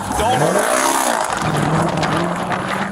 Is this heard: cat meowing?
no